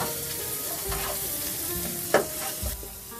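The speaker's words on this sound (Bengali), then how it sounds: "চিংড়ি মাছটা দিয়ে এগুলোকে আবার ভেজে নেব" Prawns frying in a pan with spinach and ground turmeric, coriander and cumin, a continuous close sizzle broken by a few stirring knocks and scrapes, with a sharp clack near the end.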